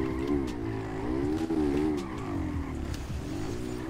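A Honda Pop 110i motorcycle engine in GTA V holds a steady, droning note that rises and falls in waves as it is ridden hard, with tire scrubbing mixed in, loud and close throughout with no talking.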